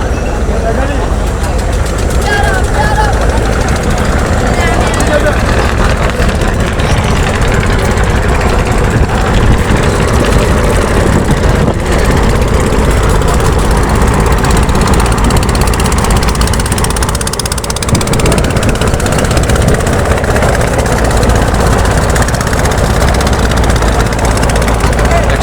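Several passenger launch boats idle with steady, loud low engine rumble before departure at a busy river terminal, a continuous droning mix with crowd noise and voices throughout.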